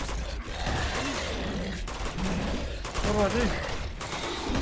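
Bursts of dense gunfire rattle through a firefight in Uncharted 2: Among Thieves, near and continuous with brief gaps, while someone speaks anxiously over the shooting.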